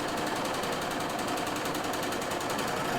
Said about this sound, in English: Overlocked both sides, now I don't have to worry about it anymore